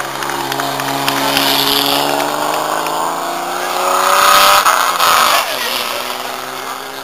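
A Torino race car at a historic grand prix in Macachín, La Pampa revs and accelerates loudly and close by, its engine note climbing steadily, with people talking over it.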